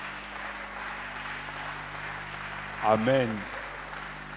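An audience at a ministers' church meeting in Cameroon applauds with a light, steady patter of clapping behind a low hum, while a voice calls out briefly near the end.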